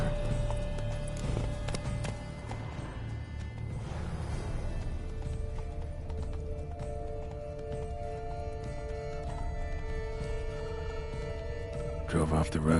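Roach, a horse in The Witcher 3: Blood and Wine, gallops with rhythmic hoof clip-clops under a steady music bed and game ambience, a voice speaking briefly.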